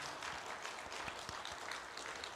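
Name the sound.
church congregation applauding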